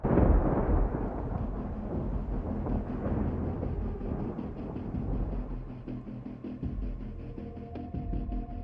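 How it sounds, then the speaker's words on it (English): Lightning strikes the Makkah clock tower: a deep, heavy rumble of thunder rolls on continuously, loud and broad, with a sharp crack near the start. "captured the moment lightning struck the clock tower at the holy site of Makkah"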